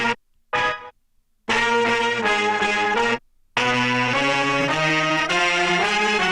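A horn section shifted up in pitch plays back as bright, brassy sustained chords, starting with two short stabs and then longer held phrases, loud and unaccompanied by talk.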